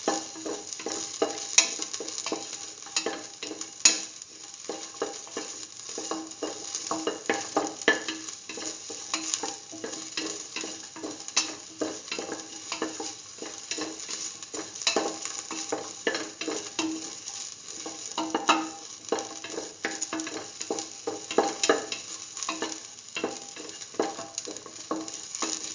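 Ginger and shallots sizzle steadily in a hot pan for a lentil pumpkin stew, with continuous frying crackle and repeated scraping stirs of a utensil against the pan throughout, close and moderately loud, no talk.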